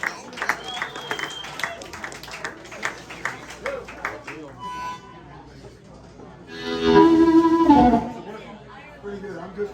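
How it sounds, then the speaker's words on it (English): A live blues show crowd at the Maui Sugar Mill Saloon bursts into applause and cheering near the end, following a stretch of loud talking and rhythmic clapping. "Give yourself a big round of applause"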